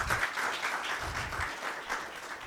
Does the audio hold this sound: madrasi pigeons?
no